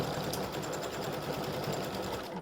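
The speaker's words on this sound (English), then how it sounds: "now it's stitching the green on the buckle" An embroidery machine stitches green thread on the buckle of an appliquéd St Patrick's Day gnome design, a steady, rapid needle chatter that runs continuously and close up with no voices.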